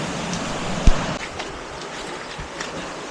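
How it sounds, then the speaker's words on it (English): The Colorado River and a small stream run steadily at the bottom of the Grand Canyon near the River Rest House, a continuous broadband rush of flowing water with a brief knock near the start and no speech. "that is the Colorado River, and there's a little stream running right to the left of me over here"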